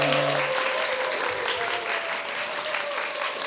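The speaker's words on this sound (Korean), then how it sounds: "큰 박수 부탁드릴게요." Audience applause fills a Korean television stage show where musicians are being introduced. Dense, steady clapping runs throughout at close range, with a faint tonal hum near the start.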